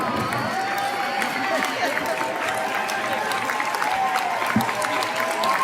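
Commencement ceremony crowd applauding fathers standing in the audience and on stage, continuous clapping mixed with cheering and crowd murmur, loud and steady from start to finish.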